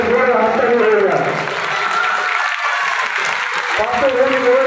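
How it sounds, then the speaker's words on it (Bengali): An audience at a school ceremony launching an English department breaks into a burst of clapping, which swells under a speaker's amplified voice. "একটা জোরে হাততালি হয়ে যায়।"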